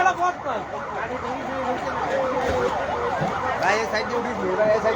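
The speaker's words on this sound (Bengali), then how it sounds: "এইমাত্র ফায়ার সার্ভিস আসলো তারা উদ্ধার কাজে এখনই লেগে গেছে" Wailing siren of a fire service vehicle arriving at a road accident scene, rising and falling continuously for the whole stretch, loud and fairly close, with crowd noise and voices underneath.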